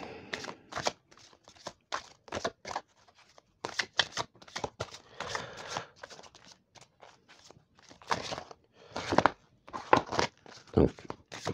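Tarot cards are shuffled and handled to draw five, a run of irregular papery riffles, slaps and rustles close by, with soft speech mixed in at times.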